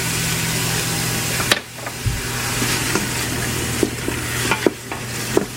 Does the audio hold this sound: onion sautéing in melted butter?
yes